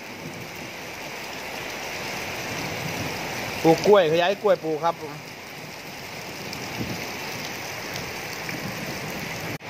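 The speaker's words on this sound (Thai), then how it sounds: "ฝนตกซ้ำนี่ครับ" Steady rain patters and hisses throughout, with someone speaking briefly over it partway through before the downpour carries on alone.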